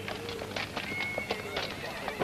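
Horses in a classic western film snort and whinny while hooves clip-clop unevenly nearby, short bursts and a thin drawn-out neigh over a low background hum.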